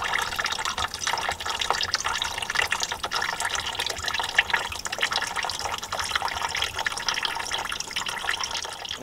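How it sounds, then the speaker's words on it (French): Coolant pours steadily from a disconnected radiator hose on a Peugeot 308 during a leak hunt, a continuous close splashing stream of liquid with no voices. "je vais faire le choix d'enlever le collier de serrage et de vidanger par cette fameuse durite le liquide de refroidissement"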